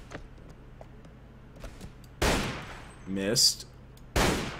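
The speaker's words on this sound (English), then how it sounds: "Let's go take him out with my rifle." Rifle shots in the Warband mod Red Wars: two sharp, loud broadband cracks a couple of seconds apart, with a brief clatter between them, over a low background hum and a short spoken word.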